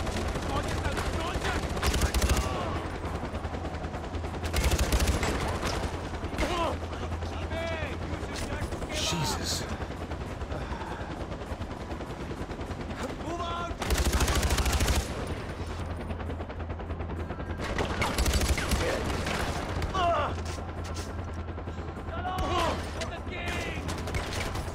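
Sustained bursts of rapid automatic gunfire and explosions in the Far Cry 4 video game, loud and dense across the whole stretch, with heavier volleys surging at intervals amid continuous combat noise.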